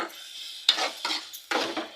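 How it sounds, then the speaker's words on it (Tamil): Tomato, onion and garlic sautéing in oil for a dried-fish thokku: three short bursts of spatula scraping with a light sizzle, close by over a quiet pause, no talking. "இந்த எண்ணெயிலே தக்காளி, வெங்காயம், பூண்டு எல்லாம் இந்த எண்ணெயிலே நல்லா வதங்கி வரணும்."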